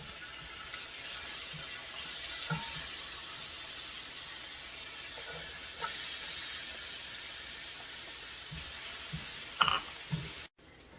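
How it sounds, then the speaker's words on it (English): Garlic sautéing in oil in a pan left over from cooking pork asado, a steady soft sizzle with occasional stirring scrapes, close and continuous, ending abruptly. "let's saute our"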